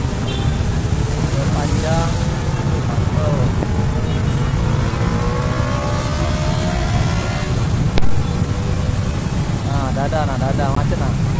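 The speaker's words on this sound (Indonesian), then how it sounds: "Jalanan macet." Road traffic crawls through a jam at a flooded intersection, a steady hum of car, truck and motorbike engines close by, with a brief louder burst partway through and voices talking over it.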